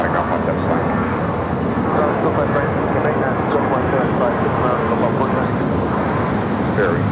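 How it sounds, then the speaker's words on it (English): An Emirates airliner on flight 216 to Dubai makes its takeoff roll on runway 24 left at LAX with a continuous, loud broadband engine roar that holds steady throughout, while voices talk over it. "Emirates, flight 216 heading back to Dubai, now rolling down to 24 left"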